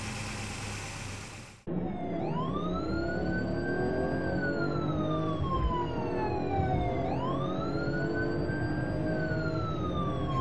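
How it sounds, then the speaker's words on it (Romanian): A police car siren wails in long rising and falling sweeps, loud and continuous, and follows a short burst of noise at the start. "Mașină de poliție."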